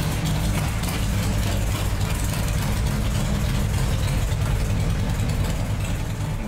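A built 131ci Twin Cam Harley engine running on a dyno, a loud, steady, dense roar that holds without letup from start to finish.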